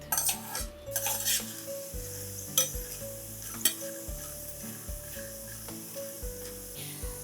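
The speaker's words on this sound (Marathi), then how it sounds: "अर्धी वाटी सांडगे मी या तेलात घालून घेणार आहे हे सांडगे लालसर रंगावर आपल्याला परतून घ्यायचे" Moong dal sandge frying in hot oil, with a constant sizzle under repeated rhythmic stirring and scraping of a metal utensil against the pan, close and clear, with no talking.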